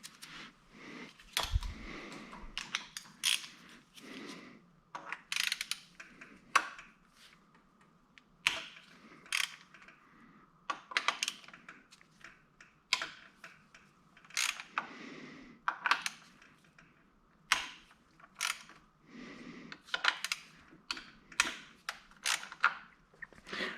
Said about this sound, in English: So I'll get these 10 millimeters loosened up